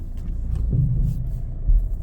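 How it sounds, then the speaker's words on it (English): A Ford Mondeo engine cranks and catches, settling into a steady low rumble that swells briefly near the end, close by with no talk. "start the car up"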